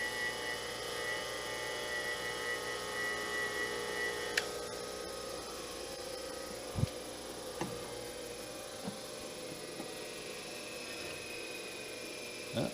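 Dry OD grinding on a fixture as the wheel sparks out: a steady machine hum with tonal whine fills the whole stretch, broken by a few faint isolated ticks, with no voices.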